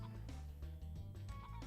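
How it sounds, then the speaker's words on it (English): Chickens in the video game Spyro the Dragon give gobbling, clucking calls in short repeated bursts, quiet and synthetic-sounding over a steady musical background. "These weird chickens are the fodder for the level."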